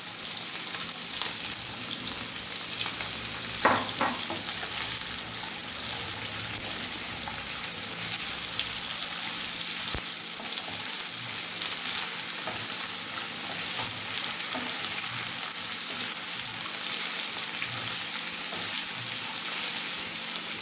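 Onions and capsicum for chilli chicken sizzle steadily in a hot pan, a dense continuous frying hiss with occasional stirring scrapes, close and even for the whole stretch, with no talking.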